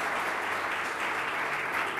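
A short burst of clapping from a small group, dense and steady, heard nearby.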